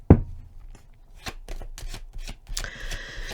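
Tarot cards riffled and flicked through a deck, a string of short crisp slaps and taps, then a brief sustained ringing tone near the end, close and moderately loud with no talking.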